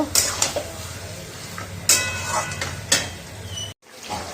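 Chicken with soured yogurt is stirred in a pan for spinach chicken, with repeated metallic scrapes and clanks of a spatula over a low frying rumble, close and fairly loud, cut by a brief silent gap near the end.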